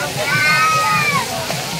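Water rushes and sloshes along a large canal at a riverside bathing spot during a Maha Shivaratri gathering. The steady splashing churn sits under voices nearby.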